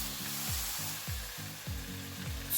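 Couscous hits a hot pan and sizzles in a steady hiss, with rhythmic scraping stirs recurring about every half second, close and fairly quiet.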